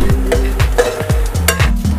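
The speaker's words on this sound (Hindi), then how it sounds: "और अब सारे मसालों को मिक्स कर लेंगे" A metal spoon stirs spices in a pan of spicy turai (ridge gourd) sabzi, giving a steady rhythm of close scraping strokes about every quarter second with light clinks against the pan.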